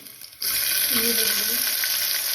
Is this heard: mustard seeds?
yes